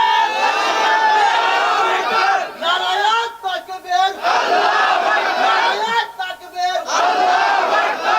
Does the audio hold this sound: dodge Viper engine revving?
no